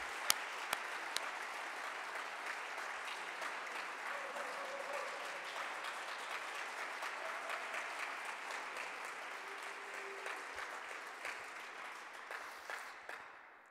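A church concert audience applauds at length, a dense steady patter of many hands that tapers off near the end, heard fairly distant and soft.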